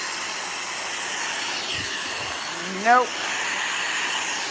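A Dyson vacuum cleaner runs steadily with a continuous whining, airy drone, held close and loud throughout, while a person briefly speaks over it.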